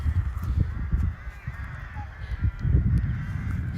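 Crows caw near a forest in Ozorkow, Poland, repeated harsh calls at moderate distance over low wind rumble and outdoor ambience.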